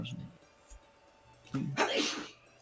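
A single sharp sneeze bursts out near the end after a quiet pause, with faint murmuring from people nearby.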